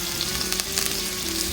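Garlic hitting a hot frying pan alongside sweet pepper and cucumber for a Jamaican steamed cabbage dish; a brief, steady hiss of sizzling oil with small crackles throughout.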